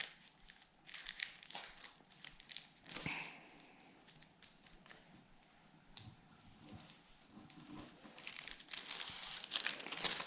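Origami paper folded and pre-creased by hand for a Baby Ryujin model, giving close, repeated crinkling and crisp creasing sounds in irregular bursts, with soft handling rustles between folds.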